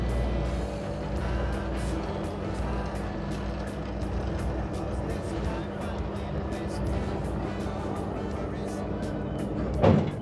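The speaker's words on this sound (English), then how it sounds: "You can hear it's very mechanical back there, brakes and all sorts of things come up." Dockside crane at Bristol's Dock Festival, its hoist machinery grinding and clanking steadily with a dense, continuous mechanical rumble, closing in a short, louder brake clunk as it stops.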